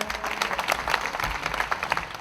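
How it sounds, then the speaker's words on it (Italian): Crowd applause in an evening town square in Italy before a choir concert of traditional Italian music, a moderate burst of many claps spread across an outdoor space with some crowd murmur. "facciamo un applauso, riscaldiamo la piazza"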